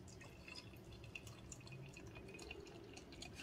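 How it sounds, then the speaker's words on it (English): Tiny Rebel Five Dollar Shake beer pours into a glass in a soft, continuous liquid trickle with faint fizzing and dripping, quiet and close, with no talking. "It's the pour."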